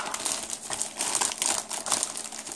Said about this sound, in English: get them all out of the packaging